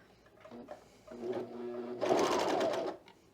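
A serger stitching elastic onto a knit top: a brief low whir builds up, then a louder steady buzzing run of about a second before stopping, close and alone.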